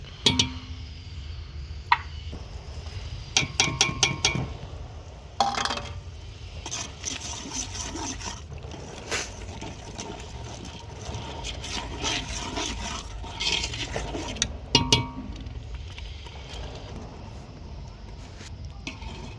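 Tomato paste for mutton biryani is sautéed in a pot over a wood-fired stove, with spoon scraping and metal clanks over a soft, wet sizzle, in irregular bursts.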